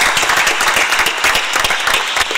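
A conference audience at an Africa eCommerce Week session applauds the interpreters and panelists with dense, loud, continuous clapping close by and no talk.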